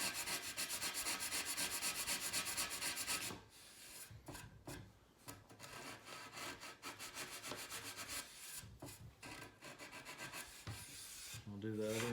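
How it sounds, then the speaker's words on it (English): Wood being sanded by hand with sandpaper along the grain: a loud continuous rasp, then a run of brisk back-and-forth strokes in steady rhythm, close by. "sanding with the grain"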